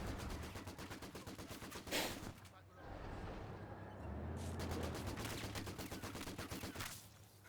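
Vickers machine gun in Company of Heroes 2 firing sustained rattling bursts at Volksgrenadiers amid a busy battlefield, with other gunfire and explosions mixed in and a voice talking over the action.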